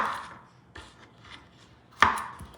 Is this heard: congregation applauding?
no